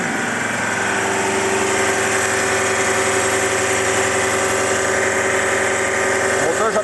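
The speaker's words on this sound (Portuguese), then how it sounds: "Vamos só deixar o barulho do motor, que vocês vão ouvir aí e acompanhar o pano." A hot car engine runs steadily with its viscous fan clutch, giving a continuous close drone with a constant whine and a fan whoosh that swells slightly near the end.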